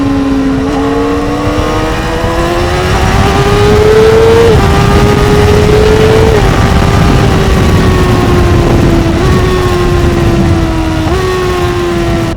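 A Honda CBR600RR motorcycle races a McLaren 720S at night, its loud, close engine revving hard and climbing in pitch through repeated gear changes over a sustained roaring drone.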